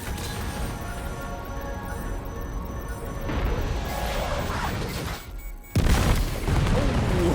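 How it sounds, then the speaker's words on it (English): Cluster bomb explosions in the Death Stranding 2 video game: a dense, continuous rumble of blasts that swells midway, drops out briefly, then slams back with a loud, sharp final burst. "Send in the Cairo cluster bomb."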